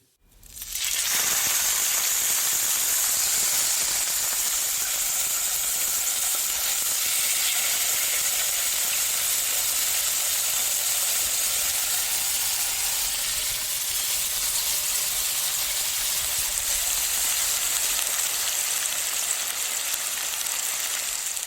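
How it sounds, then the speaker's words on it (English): A bavette steak sears in a fry pan on a gas flame, a loud, continuous hiss and sizzle that starts abruptly and holds steady throughout, with no voices. "It was, of course, a piece of meat in a fry pan,"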